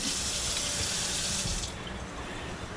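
A kitchen tap runs steadily over a knife while a nenue fish is being prepared for poke, a close, continuous splashing water stream that softens and thins out toward the end.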